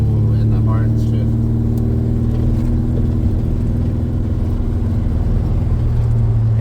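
An LS-swapped Chevrolet C10 pickup doing a burnout on bald tires, its engine droning and roaring steadily at close range under continuous loud talking, with a faint tire hiss.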